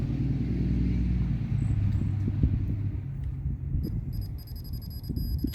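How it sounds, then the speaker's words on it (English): Continuous low rumble of cars going up and down a rural Texas road, with engine drone rising and falling as vehicles pass at middle distance; no speech. "There's surprisingly a lot of traffic that goes up and down this road."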